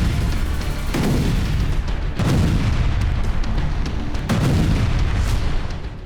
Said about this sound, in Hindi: और यूक्रेन के खार्किव में शुरू हो गए धमाके।